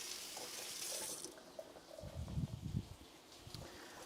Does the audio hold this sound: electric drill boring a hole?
no